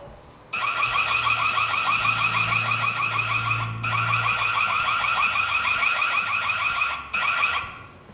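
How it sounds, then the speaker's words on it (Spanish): A loud electronic siren from an AZ019 WiFi alarm system wails steadily with a rapid warbling pulse, pausing briefly twice before resuming, with a low hum underneath. "La sirena se detiene"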